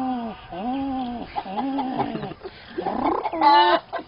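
A voice imitates a pigeon call, a series of short, warbling, pitch-bending coos given alone and close, ending in a brighter, busier burst.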